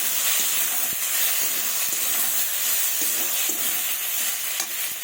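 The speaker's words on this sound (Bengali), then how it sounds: "অল্প একটু সরিষার তেল দেব ভালোভাবে কষাবো" Okra with duck eggs stir-fries in mustard oil with a loud, continuous sizzle and hiss, broken by light scraping clicks of a spatula stirring in the pan.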